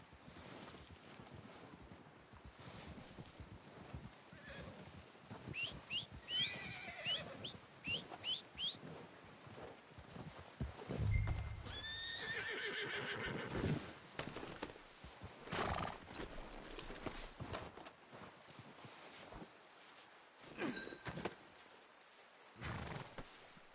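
Horses in the Red Dead Redemption video game snort and neigh while hooves clip-clop at a slow walk, with scattered whinnies over the steady hoofbeats, a few louder moments and fowl-like calls in the background.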